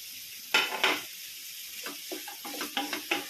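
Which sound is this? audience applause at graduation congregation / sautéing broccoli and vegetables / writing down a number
sautéing broccoli and vegetables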